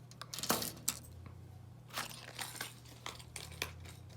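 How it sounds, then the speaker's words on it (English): Quiet, close rattling bursts of beads inside a hollow plastic lipless crankbait fishing lure, coming in several short shakes with brief pauses. "Listen to the rattle inside this. You get a very loud rattle."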